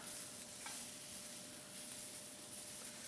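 Garlicky asparagus with toasted pecans is stirred and sautéed in a pan, giving a soft, continuous sizzle with a light scrape of stirring, faint and even, with no talking.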